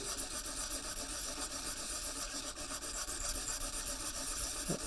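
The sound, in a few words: sharpening a layout knife on a diamond paddle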